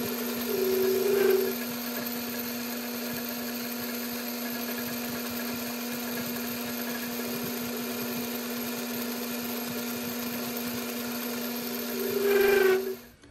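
A router or similar power tool runs steadily while taking very thin cuts in tool steel, a constant whine with a louder spin-up at the start and a louder burst near the end, no talk.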